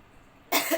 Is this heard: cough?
yes